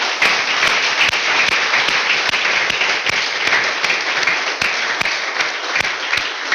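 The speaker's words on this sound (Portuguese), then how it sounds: "Vamos dar uma salva de palmas para o nosso Deus." A church congregation claps along in applause, a dense steady wash of hand claps with a few sharper, louder individual claps standing out at irregular intervals, continuing evenly throughout without speech.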